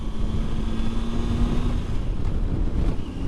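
Strong wind buffets the microphone while riding a motorcycle along Highway 191 in Utah, a loud continuous roar with steady engine drone underneath and no talk.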